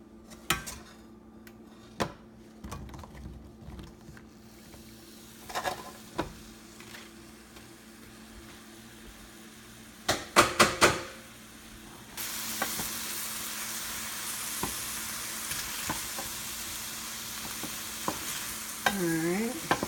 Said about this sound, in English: just working, stirring the mushrooms